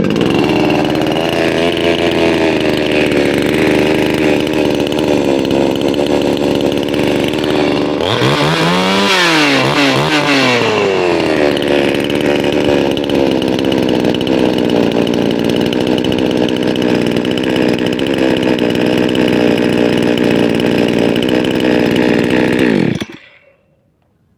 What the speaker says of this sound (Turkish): arkadaşlar motorumuzu çalıştırdık. Motorumuz çalışıyor